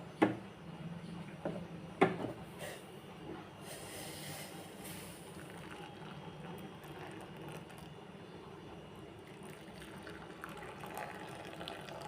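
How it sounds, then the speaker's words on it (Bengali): Hot milk poured from a pot into a bowl while preparing a pre-dawn Ramadan meal: a few sharp clinks near the start, then a steady, soft liquid rush that runs on quietly to the end. "আমি দুধটা ঢেলে নেব।"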